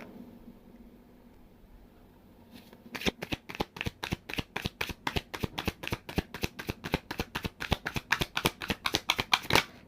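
Tarot cards are shuffled by hand after a quiet start, producing a rapid run of crisp, evenly spaced riffles and snaps that grow louder and quicker toward the end.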